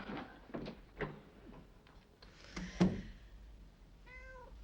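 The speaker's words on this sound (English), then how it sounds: "You're the only one who understands, aren't you, Mr. Cat?" A house cat gives a short, clear meow near the end, after a few soft knocks and bumps in a quiet indoor room.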